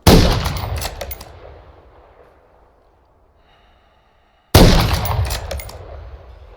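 Two loud gunshots in Call of Duty: MW3, in a snowy sniper campaign mission, each a sharp close blast with a long fading tail, separated by about four seconds of near silence.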